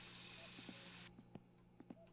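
Insect spray hisses from a can in the video game My Summer Car, one long continuous spray that cuts off abruptly, followed by a few faint clicks and taps.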